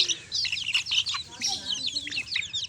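Native chicks out in the sun peep and chirp busily in rapid high overlapping calls, close and lively, over a low background hum.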